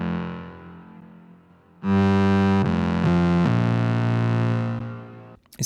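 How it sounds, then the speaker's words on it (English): An aggressive, heavily distorted synth lead blares loud and sustained in the break of an electronic track, with buzzy harmonics, a few abrupt note changes, then a cutoff. "in the break I really wanted to have this contrasting, very aggressive, very angry lead sound"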